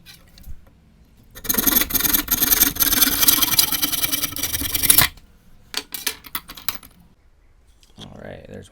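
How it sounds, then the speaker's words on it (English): Handsaw cutting a segment off a length of dried bamboo, a steady close rasping stroke for about four seconds, followed by a few short scraping strokes and a brief handling rustle. "Now we're gonna cut off a segment and make our nunchucks."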